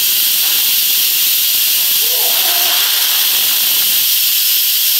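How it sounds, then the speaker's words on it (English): An Instant Pot pressure cooker vents steam after cooking meatballs on high pressure, a loud, steady broadband hiss that holds for the full five seconds, with a faint voice murmuring briefly underneath. "That's called steam. That is the Instant Pot releasing the air."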